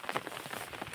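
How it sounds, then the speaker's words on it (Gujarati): Heavy rain pours down steadily, a dense close patter of drops on surfaces with no voices over it. "વરસાદ હદ પાર કરી ગયો છે"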